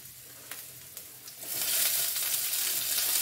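Potatoes fry in a pan in a steady, loud sizzle. A few clinks sound from stirring early on, then the hiss swells and fills the rest without any speech.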